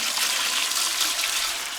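Three liters of water are poured into a canning pot for preserving pickled cucumbers, a steady loud rushing splash that runs continuously without pause and with no voices.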